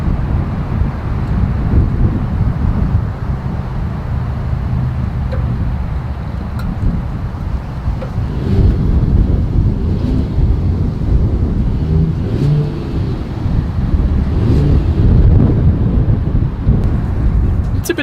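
A Mercedes-Benz GLS 450 SUV's exhaust rumbles, a deep, steady engine drone with swelling surges like revving, heard close and loud over wind buffeting on the microphone.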